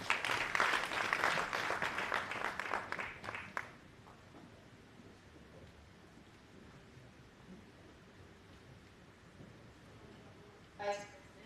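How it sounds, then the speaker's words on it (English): Brief audience applause at a national labor day conference in Sierra Leone rises for about three seconds, then dies away to a quiet hall with a faint noise near the end. "A round of applause"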